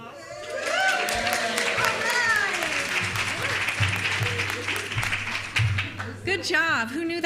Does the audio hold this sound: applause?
yes